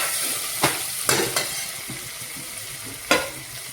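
Tomatoes stirred into a hot pan for moong dal khichdi give a constant close sizzle, with a few scraping knocks of the spoon against the pan and no voices.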